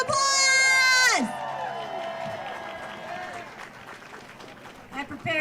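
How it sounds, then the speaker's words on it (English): A crowd at an outdoor 'No Kings' protest in Austin claps, cheers and whoops for a musician, starting right after a loud amplified voice and continuing as a moderate, fading round of applause. "Let's give her a loud round of applause."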